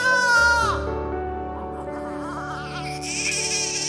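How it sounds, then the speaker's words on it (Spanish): A newborn baby cries in a high, wavering wail that breaks off and gives way to a sustained tonal musical backing, fairly loud and alone without talk. "Su primer sonido, el llanto."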